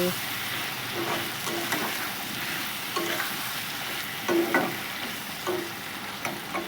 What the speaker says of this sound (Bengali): কলা ভাজি করতেছি